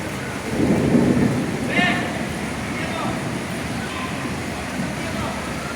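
Rain falls steadily at night in Manila with a low rumble of thunder early on, while a voice talks over the wet, hissing downpour.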